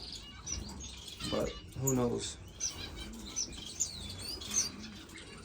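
Finches chirp and tweet in a home bird room, several small bright calls scattered throughout at moderate distance, heard under someone talking.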